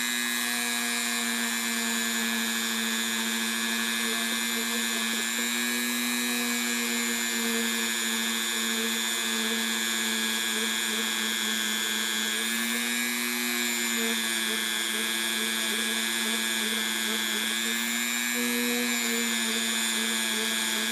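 A Dremel rotary tool with buffing compound polishes gold jewelry, giving a steady high-pitched whine that runs continuously and close by, its pitch wavering slightly as the tool presses against the metal.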